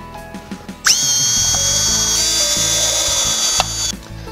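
A power driver fastens a pre-cut TruLegacy soffit corner piece. After a few light taps, it spins up into a loud, high whine that holds for nearly three seconds and then stops abruptly.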